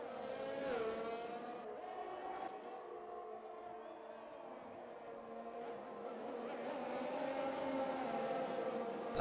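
A police siren wails faintly in the background of a sim race, its rising and falling tone mixed with race car engines droning and passing throughout.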